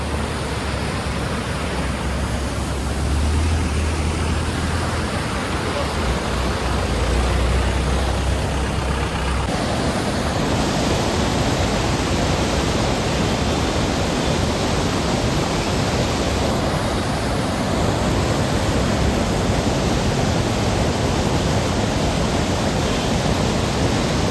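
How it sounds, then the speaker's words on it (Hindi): The flooded Chandrabhaga river, a rain-fed river near Rishikesh, roars as a dense, unbroken rush of water, loud and steady throughout with a brief low rumble early on and no talking. "देखो चंद्रभागा नदी की बाढ़ देख लो आप।"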